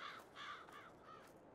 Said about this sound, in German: Krähen ärgern den Hund.